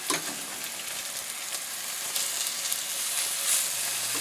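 Slices of liver frying in a pan, a steady bright sizzle and crackle, close and continuous with no one talking.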